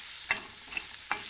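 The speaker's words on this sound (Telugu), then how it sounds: "మంచిగా ఆకు నూనెలో గోలాలి ఇట్లా" Drumstick leaves frying in oil in a pan with a soft, steady sizzle, cut by three quick spatula scrapes spaced roughly evenly, close by.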